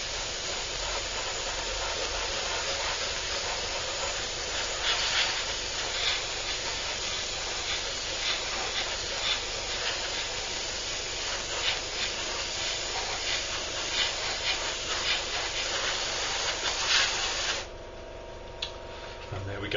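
A spray can or airbrush hisses steadily, laying a first coat of white paint onto a 1/32 scale F-8 Crusader model, with soft close spraying bursts throughout and a quieter pause at the end.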